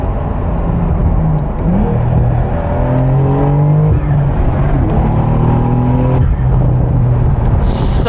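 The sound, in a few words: Porsche 911 992 4S turbo engine accelerating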